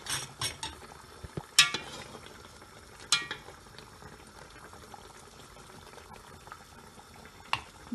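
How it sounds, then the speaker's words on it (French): A saucepan bubbles and sizzles softly as prunes caramelize, with occasional sharp pops and clicks of a utensil stirring the thick, simmering mixture. "Dans la casserole, c'est pour les caraméliser."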